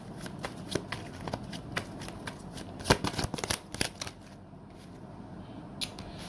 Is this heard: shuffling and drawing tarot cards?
yes